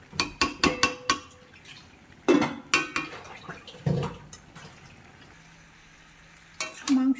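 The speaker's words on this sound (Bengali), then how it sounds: "এবার আমরা ঢাকনাটা তুলে দিয়ে চিকেনটাকে নেড়ে নেব।" A lid is lifted and chicken curry made with yogurt is stirred in a pan, a run of sharp metallic clinks and scrapes over a soft simmer, with quieter gaps between strokes.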